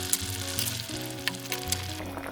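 Squash simmering in coconut milk for ginataang kalabasa sizzles and bubbles steadily in a pot as it is stirred, with soft background music running underneath throughout.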